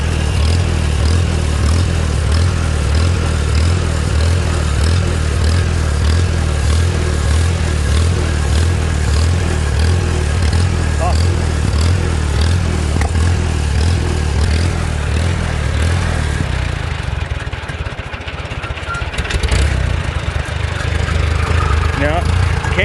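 A motorcycle engine fitted with a Chinese carburetor runs close and loud with a steady rough drone, held at high throttle, then drops away and picks back up near the end.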